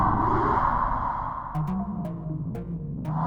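Quiet, eerie music drifts through a room in a Halloween tale, a low sustained drone with a wavering tone, broken by a few faint, sharp ticks near the end.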